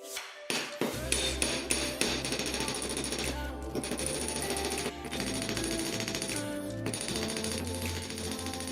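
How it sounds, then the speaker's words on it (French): An ordinary nail's tip is hammered on an anvil: a run of sharp metallic strikes, some quick and uneven, others ringing with a bright tone, loud and close with no talk. "D'abord, nous devons ajuster légèrement sa pointe sur une surface solide comme une enclume."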